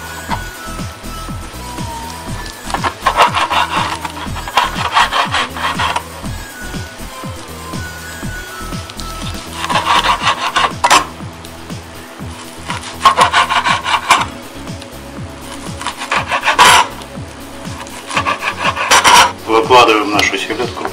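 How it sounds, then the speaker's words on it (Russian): A knife cuts herring strips into squares on a cutting board for a salad, giving repeated close scraping and chopping strokes in an uneven rhythm. "Берем эти полосочки, выравниваем аккуратно и режем на квадратики."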